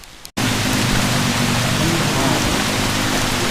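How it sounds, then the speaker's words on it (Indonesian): Heavy rain roars as a dense, steady wash of noise that cuts in abruptly after a brief quiet start, loud and continuous without speech. "Hujan teman-teman."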